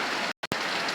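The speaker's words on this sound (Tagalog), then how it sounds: "grabe lakas talaga ng ulan" Heavy afternoon rain pouring down in a steady, loud, broadband hiss of drops on surfaces, broken by a brief cut-out, with no one speaking.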